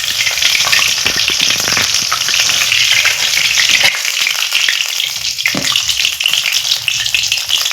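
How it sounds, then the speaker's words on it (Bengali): Tomato chops sizzling in hot oil in a wok, a loud, dense, continuous crackle with occasional stirring scrapes as they are turned over. "আর উল্টো পাল্টা করে আমি এই চপগুলো ভেজে নেব।"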